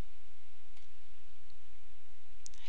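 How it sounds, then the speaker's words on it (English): A computer mouse clicks while selecting a care set in software, giving a few sharp, faint clicks over a steady background hiss. "When clicking on any care set"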